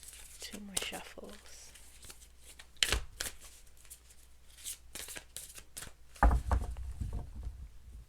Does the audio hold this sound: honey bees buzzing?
no